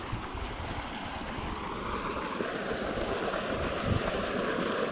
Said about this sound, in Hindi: और इधर चल रहा है हमारा ट्यूबवेल।